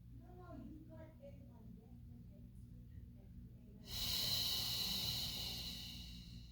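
A soft, controlled breath is pushed out during a Pilates mat exercise, a brief airy exhale rising over a quiet room hum.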